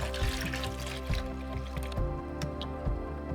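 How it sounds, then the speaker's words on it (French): Fresh water pours into the water tank of a Philips Series 2200 coffee machine, a soft trickling and dripping with small splashes, faint and close, with a quieter tail. "remplir le bac à eau. Toujours avec de l'eau fraîche."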